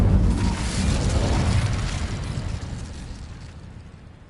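Incendio fire spell cast in Hogwarts Legacy, a loud whooshing burst of flame that flares up at once, then a roaring rumble that slowly dies away over several seconds, with no voices.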